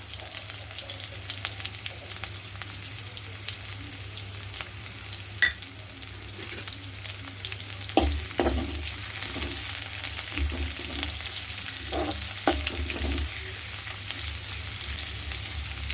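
A steady sizzle of small onions and dried red chillies frying in a hot pan, with a few soft clinks and stirring scrapes breaking through the constant crackle.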